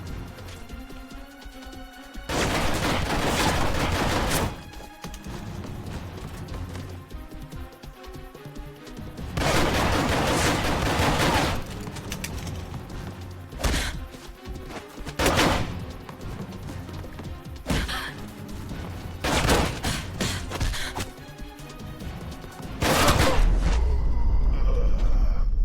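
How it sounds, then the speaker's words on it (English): Enemy gunfire in Alpha Protocol arrives in repeated loud bursts of rapid shots and crashes, separated by quieter gaps, spread across the whole stretch with no talking. "Women are shooting me, please send help."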